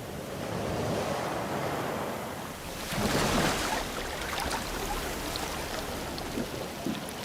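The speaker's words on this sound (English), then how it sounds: "a gentle breeze, the sounds of the ocean" Ocean surf washes on a Caribbean island beach, with a gentle breeze blowing, a continuous soft roar of waves that swells midway, with no voices.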